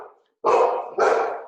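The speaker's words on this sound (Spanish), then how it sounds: "no sé a quién le ladra Mar." A dog gives two sharp, loud barks in quick succession, close by, after a fainter trailing sound and a short pause.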